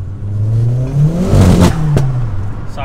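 An Opel Z20LET turbocharged engine revs up and down in quick, smooth sweeps, the tone rising and falling as the turbo spools. It is loud, close and steady, with no talk over it.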